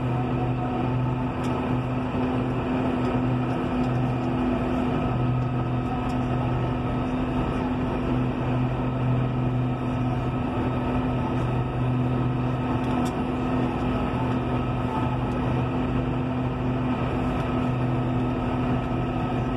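A 2016 John Deere 6150R tractor engine runs steadily while driving at over 43 km/h, a constant loud drone with a low tonal hum and no pauses or talk.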